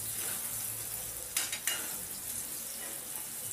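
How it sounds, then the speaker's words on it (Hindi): Carrot and fenugreek sabzi sizzles steadily in a pan, frying as it is stirred and turned over, with two brief louder scrapes of stirring partway through; no one speaks. "इस तरह से पलट पलट के फ्राई कर लेती हूँ मैं"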